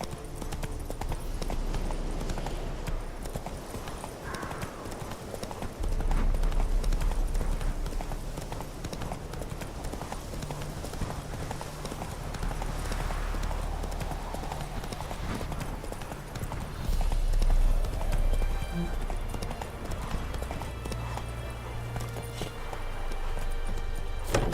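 Horse hooves clip-clopping at speed in The Witcher 3, a continuous rhythmic galloping close by with game music and ambience underneath, lasting throughout.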